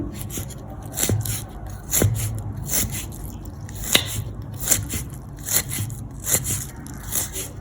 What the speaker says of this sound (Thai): หั่นเป็นเส้นๆอย่างนี้แล้วเราก็ซอยให้เป็นชิ้นเล็กๆ